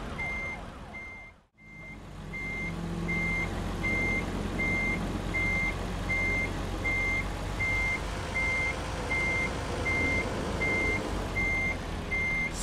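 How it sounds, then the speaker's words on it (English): In American Truck Simulator, a truck reverses a trailer: regular, evenly spaced reversing beeps sound over a loud, steady engine rumble after a brief dip near the start. "So I'm gonna quickly reverse the trailer"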